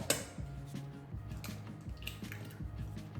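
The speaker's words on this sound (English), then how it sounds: "Now we're cracking 4 eggs into the bowl." Four eggs cracked into a mixing bowl in a school kitchen, a series of sharp taps and clinks against the bowl with soft wet drips between them, close and fairly quiet, no voices.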